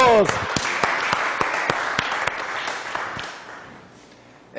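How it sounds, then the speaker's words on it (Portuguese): A studio audience at a television talk show applauds steadily, with a few sharper claps standing out, gradually thinning toward the end. "Recebemos aplausos!"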